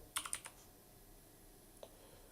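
A computer keyboard gives a quick cluster of quiet keystrokes at the start, then a single soft tap after a pause, close but faint in a hushed room.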